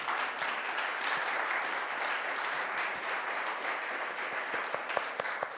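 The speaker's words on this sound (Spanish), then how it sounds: "quiero que le brindemos un aplauso a nuestro tremendo panel" An audience applauds a panel at the launch of a circular-economy construction network, steady dense clapping from many hands filling the room, with a few sharper individual claps standing out near the end.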